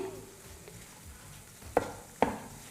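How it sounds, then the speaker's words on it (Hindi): Gram flour (besan) stirred and roasted in a pan for barfi, a soft low scraping hiss with two sharp spoon knocks against the pan near the end, close and quiet. "उसी तरह से अच्छे से इसमें खुशबू आने तक हमें भून लेना है।"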